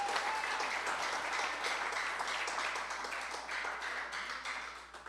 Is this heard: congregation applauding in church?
yes